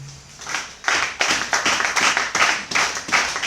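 A church congregation claps in rhythm to acclaim the Lord, a series of loud, steady handclaps filling the room with no one speaking.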